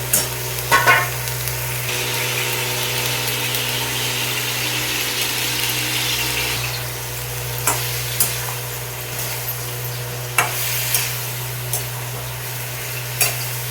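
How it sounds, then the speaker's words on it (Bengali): Steady close sizzling of cauliflower, peas and potatoes frying in spiced masala in a pan, with occasional sharp spoon scrapes and clacks over a constant low hum. "মশলা কষানো হয়ে গেছে, এবার দিয়ে দেবো ফুলকপি, মটরছিমি, আলু ফ্রাই করে রেখেছিলাম"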